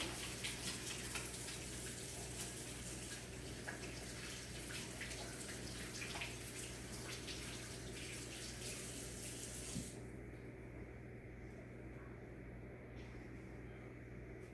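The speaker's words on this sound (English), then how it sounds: "let me rinse my hands off just to make sure I don't want any cross-contamination" Hands rinsed under a running kitchen tap: a steady, soft stream of water splashing for the whole stretch, faint and continuous, thinning slightly near the end.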